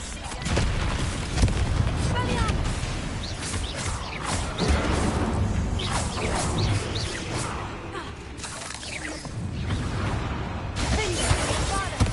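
Confringo blasting-spell explosions in the Hogwarts Legacy video game, a dense, loud run of repeated booms, bangs and crackling impacts that overlap continuously through the whole stretch.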